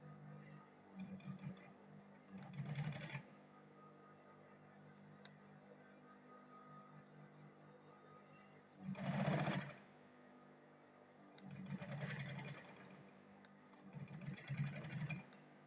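An electric sewing machine stitches the handle and lining onto a handbag in several short separate bursts of whirring run, with quiet pauses between them, fairly close and without talk.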